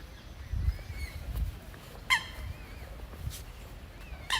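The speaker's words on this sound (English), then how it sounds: "Oh, look at the sounds of the birds." Wild birds call outdoors, a few thin, brief chirps and whistles rising from a distance over low, rumbling background noise, with sharper call bursts near the middle and end.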